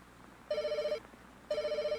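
A telephone rings in the video game Night Shift: 1999, two identical bell-like trilling bursts about a second apart separated by a short gap, clear and moderately loud with no talking.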